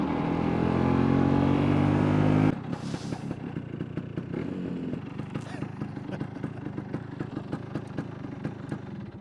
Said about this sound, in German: Ich habe jetzt vierten Gang wieder knapp unter 40 und das ist einfach dieses blöde Zuckeln.